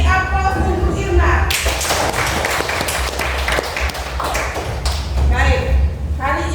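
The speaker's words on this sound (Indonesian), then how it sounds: "Kita beri aplaus untuk Irma." Students in a classroom applaud a classmate, a burst of close, dense clapping that swells and then fades, with speech heard before and after it.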